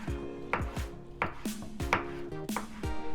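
A knife slicing through tomatoes on a cutting board while a mushroom biryani is prepared, a series of crisp, evenly spaced chops, close and clear, with no talking.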